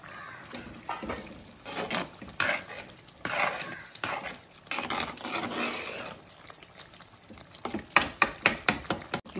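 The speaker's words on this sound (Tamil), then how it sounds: "இன்னும் சிக்கன் பொடியாக வேணும்னா கூட குத்தி விட்டுக்கலாம். இந்த மாதிரி கரண்டியில் அழுத்தி விட்டால் ரொம்ப பொடியாகிடும்." A ladle presses and scrapes through chicken burji in a pan, giving repeated muffled mashing thuds and metallic scraping in uneven bursts, ending with a quicker run of sharp taps against the pan.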